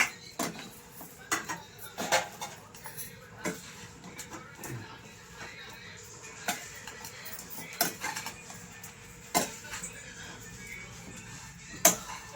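Potato fry being mixed in a metal pan with a spoon, giving repeated sharp clinks and scrapes at an uneven rhythm, close and fairly quiet, with a faint voice now and then.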